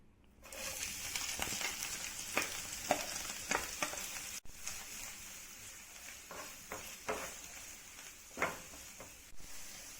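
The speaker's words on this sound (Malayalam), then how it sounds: "ഇനി ഇതിലേക്ക് നമുക്ക് ഒരു മീഡിയം സൈസ് സവാള രണ്ടോ മൂന്നോ വെളുത്തുള്ളി കുറച്ച് കറിവേപ്പില ഇതിട്ട് നമുക്കൊന്ന് വഴറ്റി കൊടുക്കാം" Onion, garlic and curry leaves sauté in a pan for Kerala-style beef fry, giving a soft, continuous sizzle broken by light stirring scrapes and small pops, heard alone and fairly faint.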